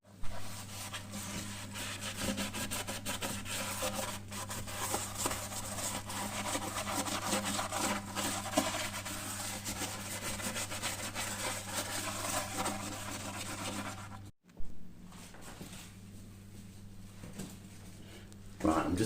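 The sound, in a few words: scrubbing a toilet by hand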